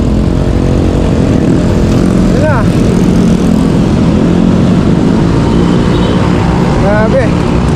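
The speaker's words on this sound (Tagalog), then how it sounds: "Pabilisan to, ang daming motor" Many motorcycles ride through dense traffic in Barangay Don Galo, Parañaque, a loud, constant engine drone with wind rumble close to the rider, and a voice talks over it.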